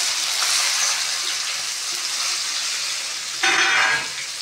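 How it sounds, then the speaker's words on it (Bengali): Chopped onions go into hot oil with cumin and bay leaf and set off a bright, steady sizzle that runs throughout. A louder burst of sputtering comes near the end. There is no talking. "জিরে আর তেজপাতা নাড়াচাড়া দিয়ে এই তেলের ভিতরে কেটে রাখা পেঁয়াজগুলো দিয়ে দেবো"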